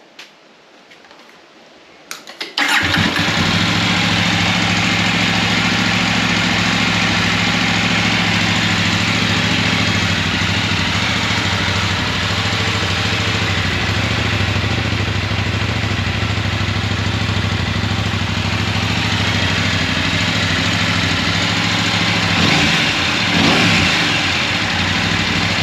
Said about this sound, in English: So let's hear what it sounds like.